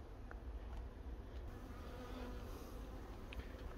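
Honeybees buzz steadily around beehives, a continuous soft droning hum with no voices.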